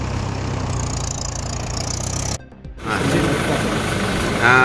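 A tractor engine idles with a steady, low rumble, broken by a short dip, then continues loud and close with some clatter.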